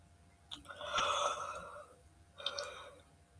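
A single person yawns once, a drawn-out breathy exhale that swells and fades, followed by a shorter second breath, fairly close and alone at low level in a quiet room.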